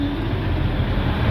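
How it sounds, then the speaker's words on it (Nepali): Darjeeling toy train on the hill railway near Ghum station, a loud, steady low rumble and roar of the moving train heard close by with nothing else standing out. "यो दार्जिलिङको टोय ट्रेन।"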